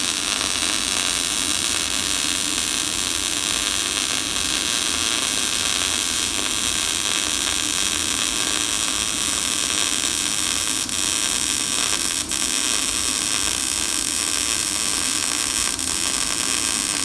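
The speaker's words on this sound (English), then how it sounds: "so now we can weld." Welding on a rusty Toyota frame repair gives a steady close crackling hiss that runs without a break, with no talk.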